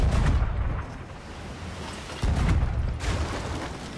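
Ship cannons fire and strike a galleon in a Sea of Thieves naval battle, heavy booming impacts with rumbling bursts overlapping across the stretch, loud and dense.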